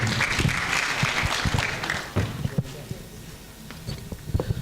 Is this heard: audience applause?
yes